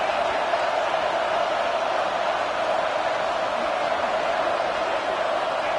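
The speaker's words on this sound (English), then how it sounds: "Listen to this crowd just shaking the girders of this place trying to help their defense." A football stadium crowd at a Mississippi State versus Virginia Tech game roars continuously to back the defense, a dense, loud, unbroken wall of noise with no pauses.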